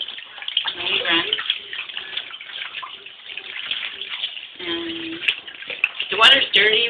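Tap water runs steadily into a tub while a sphynx cat is bathed, a continuous splashing rush that sits under a person talking throughout.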